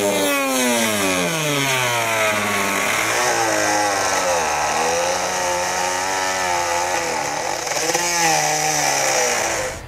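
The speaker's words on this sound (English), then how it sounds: "we'll go ahead and take some sort of cutting tool here, and we can take out the material" Power cutting tool slicing through the plastic lower bumper fascia of a 2020 Ford Escape, its whining motor rising and falling in pitch as it bites into the material, loud and close without a break.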